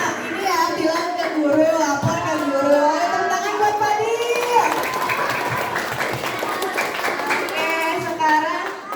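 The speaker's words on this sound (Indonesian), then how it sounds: "Tepuk tangannya dong." Elementary schoolchildren clap together during a school seminar on bullying, the applause swelling midway and lasting several seconds beneath ongoing voices.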